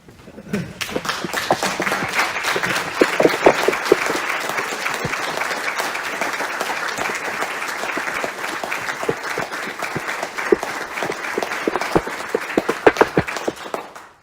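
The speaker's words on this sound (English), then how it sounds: "a standing round of applause" A large audience at a University of Virginia Board of Visitors meeting gives a standing ovation, a dense sustained clapping that rises quickly and holds throughout without talk.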